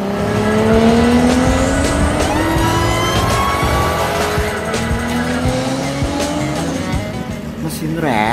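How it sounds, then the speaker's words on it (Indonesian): A racing car engine revs hard with rising, whining harmonic sweeps and bursts of tire squeal, loud and close throughout, over a noisy street backdrop. "Mesin racing nih, bos."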